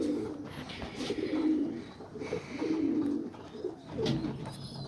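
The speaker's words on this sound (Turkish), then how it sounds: "Evet kuş da burada." Soft, throaty cooing from a homing pigeon repeats in low rolling phrases, fairly close, over a faint background hiss.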